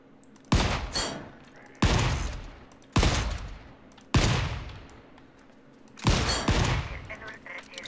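Five loud, sharp gunshots from the survival video game Volcanoids, each ringing out with a long decaying tail, fired at irregular intervals about a second or two apart with no talk over them.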